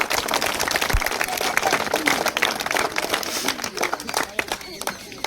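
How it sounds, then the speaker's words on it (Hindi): Crowd clapping outdoors for the children's parents at a community race event, uneven and choppy with crinkling noise and voices mixed in throughout. "इन बच्चों के माता पिता के लिए जोरदार तालियां बजा दीजिएगा।"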